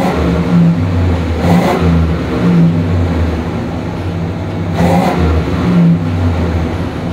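A 1986 Chevy Caprice Brougham engine idles loudly up close, then revs up twice in surging bursts before settling back to a steady rumbling idle.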